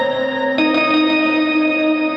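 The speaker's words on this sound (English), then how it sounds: "I'm gonna turn the mix all the way up so that the harp doesn't really sound like a harp anymore" A harp played through a Darkstar reverb effect with the mix fully up, producing a heavy, sustained wash of smeared tones in which a fresh pluck swells and blurs into the shimmering texture, with no talking.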